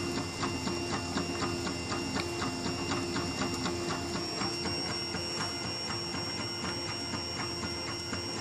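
A Printrbot Simple Metal 3D printer works steadily with rhythmic stepper-motor ticking and whirring over a constant hum, fairly quiet and close.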